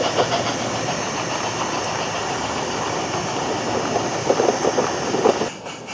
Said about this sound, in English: the pickup goods continues below, storming up the now infamous Gallantry Bank on its way to Butley